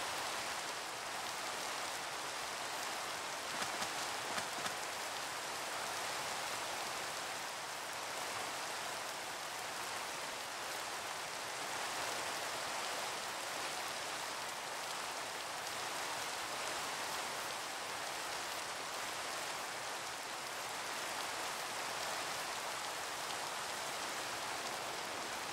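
Steady rain falling in Minecraft, a constant even hiss of drops with no talk, moderately quiet and unbroken throughout.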